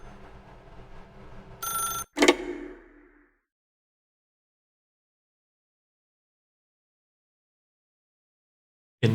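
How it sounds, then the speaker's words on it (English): A telephone in The Stanley Parable video game gives a short burst of ringing, then a sharp clang, and everything falls to silence. "then pick up the phone"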